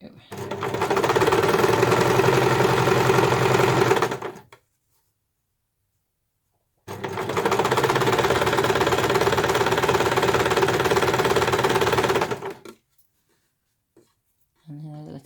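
A sewing machine stitches a piped cushion cover in two long steady runs of rapid, even motor hum separated by a pause, close and fairly loud, with a brief sound at the end.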